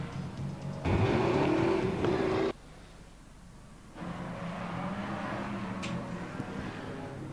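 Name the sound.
BriSCA Formula One stock cars racing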